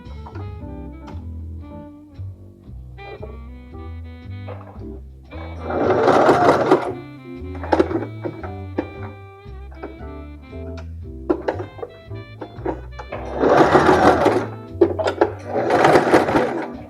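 A domestic sewing machine stitches along a bias binding edge in several bursts of rapid, buzzing runs, close and clear, separated by quieter pauses with small mechanical clicks.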